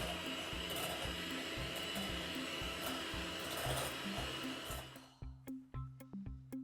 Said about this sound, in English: Switched on. Whisk it up until it's nice and creamy.